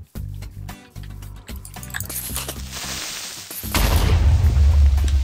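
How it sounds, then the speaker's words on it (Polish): A creeper explosion in Minecraft, a loud booming blast that erupts after a run of rhythmic game thuds and clattering, its rumble sustained and heavy to the end. "Bez ciebie to by 3 creepery wybuchły, a tak to wybuchł tylko jeden."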